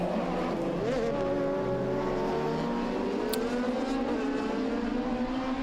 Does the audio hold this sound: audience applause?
no